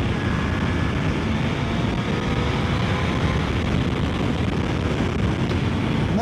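A Suzuki GSX-S 1000 GX motorcycle engine runs steadily while riding, its drone largely buried under heavy, continuous wind rush at the microphone throughout.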